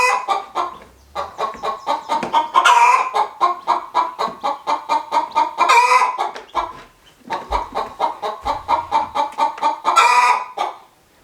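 A mother hen guarding her eggs clucks steadily and rapidly at close range for about eleven seconds, with a few louder squawking bursts breaking up the rhythmic stream of clucks.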